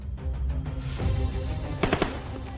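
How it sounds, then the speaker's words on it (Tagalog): Rapid gunfire from soldiers' M16 rifles as a sound effect, scattered sharp shots early on and then a tight cluster of loud bursts near the end over a noisy background. "ang sunod-sunod na putok na mga baril mula sa dalang M16 rifle na mga sundalo."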